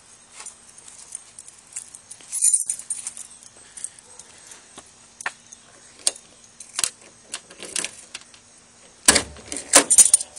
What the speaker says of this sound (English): this Cadillac comes with signature gold-plated ignition keys